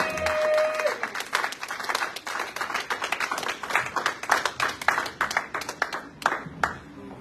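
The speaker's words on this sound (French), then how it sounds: "nous allons applaudir pour le Seigneur" Church congregation claps for the Lord during a worship service, many hands beating in a loose rhythmic pattern that continues steadily, with a voice heard briefly at the start.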